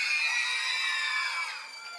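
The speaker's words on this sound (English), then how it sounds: "That was definitely a loud cheer." A graduation audience cheers loudly for a Year 6 pupil at an international school, a dense burst of high young voices shouting and whooping together that tapers off after about two seconds.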